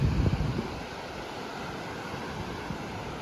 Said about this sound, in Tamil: ஆனால் அலை பயங்கரமாக இருக்க.